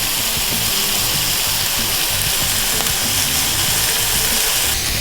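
Shrimp sizzling in a hot sauté pan as lemon juice is squeezed over them, a loud, steady broadband hiss and crackle filling the whole stretch without letup.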